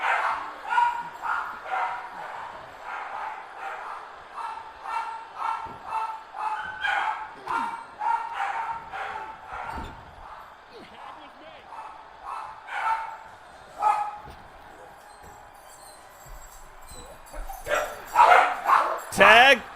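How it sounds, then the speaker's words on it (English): Arena crowd in WWE 2K24 chanting a barking chant: repeated rhythmic bark-like shouts from many voices keep a steady pulse throughout, with a louder burst near the end and a commentator's voice mixed in. "I wish they would stop barking"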